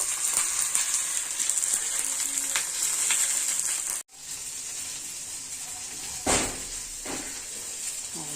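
Hilsa fish wrapped in banana leaf fry in a pan with a steady sizzle and faint crackle, broken by a brief clatter of handling partway through.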